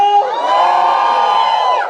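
A large San Diego audience cheers, whoops and shouts loudly in a dense, sustained roar lasting nearly two seconds, with no speech over it.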